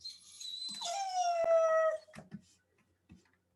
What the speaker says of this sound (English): That dog is whining.